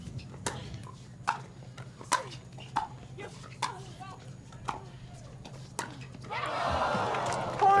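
Crowd at a women's doubles pickleball gold medal match at the Red Rock Open letting out a swelling moan after a missed ball, following a run of sharp paddle pops and bounces during the rally.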